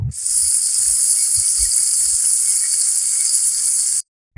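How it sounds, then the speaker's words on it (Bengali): Ginger paste frying with raw mango in a pan for a sour dal, a loud, hissing sizzle that holds steady for four seconds with a few soft low knocks beneath, then cuts off. "দিয়ে ভালো করে আদাটা কষে নিতে হবে"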